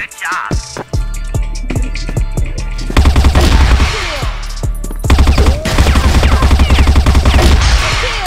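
Shooter game gunfire: rapid automatic bursts and sharp single shots crack close and loud, first spaced out, then in dense sustained volleys.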